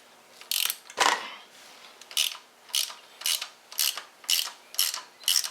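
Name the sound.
ratchet breaking loose a Loctite-secured bolt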